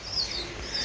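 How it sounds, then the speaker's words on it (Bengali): Pigeons kept on a home rooftop call briefly, with thin bird chirps rising over a steady outdoor hiss, fairly close and soft, with no talk. "আমার ছাদে অনেকগুলো কবুতর আছে, আপনি আওয়াজ শুনতে পাচ্ছেন।"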